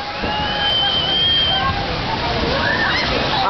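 Water splashing and sloshing on a water ride at Beto Carrero theme park, a steady broadband wash of spray close by, with voices shouting and chatter mixed over it.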